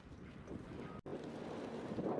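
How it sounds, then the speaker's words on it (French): Wind gusting across the open Place Bellecour square in Lyon on a sunny late-March day, a rough, rumbling buffeting on the microphone that drops out briefly before resuming. "Un peu trop de vent néanmoins"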